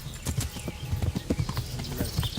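Horse hooves clip-clop steadily in the medieval action RPG Kingdom Come: Deliverance, a quick, uneven run of close hoofbeats that carries on throughout with a faint whinny-like tone.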